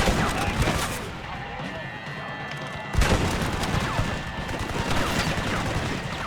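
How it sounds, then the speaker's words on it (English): Rapid machine gun fire in the Red Dead Redemption video game, loud dense bursts of shots with a brief lull near the middle before the fire resumes. "They have a machine gun!"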